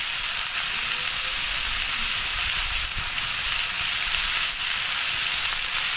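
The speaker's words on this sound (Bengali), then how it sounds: "আমি আলু ফুলকপি ভালো করে ভেজে নেব" Potatoes and cauliflower sizzle steadily in a hot pan, a dense, even frying hiss that runs unbroken from start to finish with no voices over it.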